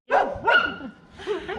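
Several dogs bark sharply outside at a dog foster home, two quick loud barks followed by a softer, whimpering yelp, close by with no talking.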